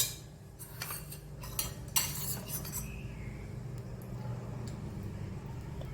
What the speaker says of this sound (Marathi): आता काजू गरम करून त्याच्यावर थोडं तूप घालून त्याला भाजून घेणार